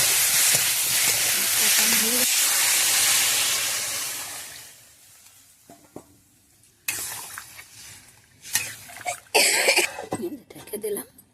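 Water goes into a hot pan for fish curry, giving a loud, close hiss of steam that gradually dies away, followed by coughs, clattering and short bursts of noise.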